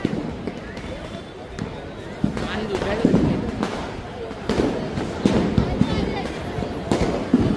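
Sharp firecracker pops burst irregularly amid a noisy crowd at the Dadar Deep Utsav fire show, some close and loud, others farther off, with voices talking throughout.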